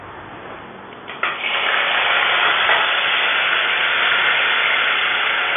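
Carom seeds and asafoetida drop into hot oil and burst into a loud, steady sizzle that starts abruptly and holds evenly, close up and with no talk.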